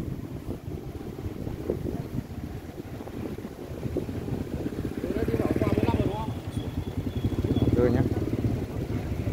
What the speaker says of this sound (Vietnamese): Đây, động cơ đây, máy đang nổ đây.